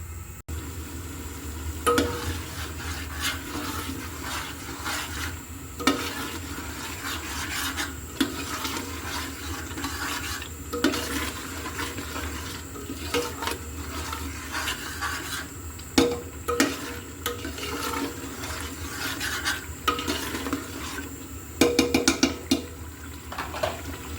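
Chicken khebsa spices sauté in a pan over the flame, giving a quiet, continuous sizzle broken by intermittent scraping strokes of the spoon against the pan.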